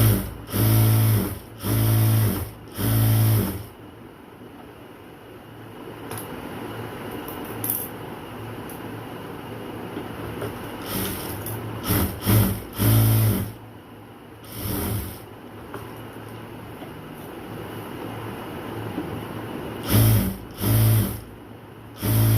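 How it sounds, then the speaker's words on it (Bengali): A sewing machine stitches a garment seam, running in short loud whirring bursts that stop and start again, with quieter pauses in between while the fabric is repositioned. "এবার আরেকটা সেলাই দিতে হবে"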